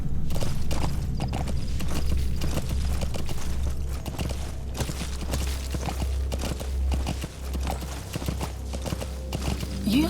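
Horse hooves clip-clop in Metal Gear Solid V: The Phantom Pain, a steady, close walking rhythm of hoofbeats with faint game ambience underneath.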